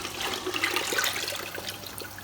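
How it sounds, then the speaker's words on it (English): Homemade stock poured from a heavy bowl into a pot of party jollof rice, a soft steady splashing stream lasting a couple of seconds, quiet and close. "So we're going to add the stock now."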